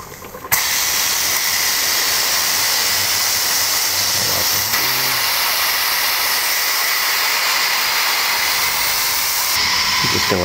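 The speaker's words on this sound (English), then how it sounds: "I'm just going to let the steam bleed off that." Steam bleeds off a pressure canner after 1.5 hours of canning salmon, a loud continuous broadband hiss that starts abruptly and holds steady throughout, with a faint low rumble beneath.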